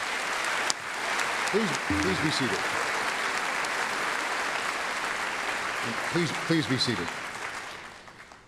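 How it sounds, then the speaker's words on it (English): Applause at a North Idaho College commencement ceremony honoring student government representatives; a large audience claps steadily and loudly in a big hall, while a voice on the public address system speaks over it twice. "So please join me in a round of applause for recognition of these individuals"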